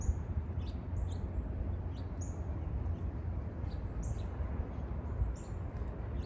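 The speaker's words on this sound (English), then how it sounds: "You hear the birds chirping?" Birds chirp outdoors in short, high, scattered tweets repeating every second or so, fairly faint over a steady low background hum, with no talking.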